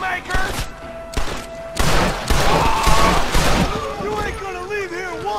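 Bursts of gunfire in Red Dead Redemption crackle and thump while someone talks over them in Spanish.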